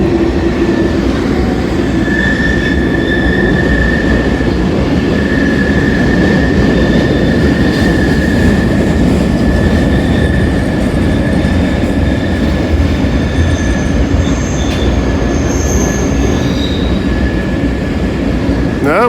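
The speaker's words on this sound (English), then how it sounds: "Looks like we got a grain train going up the other side." A mixed manifest freight train rumbles steadily past on the railroad at Kenova, a loud continuous roar of wheels and cars with faint squeals and clicks over the whole stretch.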